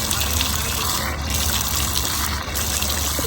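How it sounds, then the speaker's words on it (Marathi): Cold water gushes steadily from a tap at a school, a loud, continuous rushing spray that holds at an even level from start to finish without talking. "इथे ना गार पाणी गार पाणी शाळेच्या इथे बघा एकदम गार पाणी"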